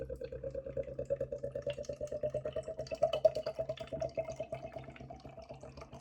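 Hard pour of Hawkstone Black nitro stout from a can into a glass, a steady rapid glugging stream with quick rhythmic pulses, close and moderately loud with no voices.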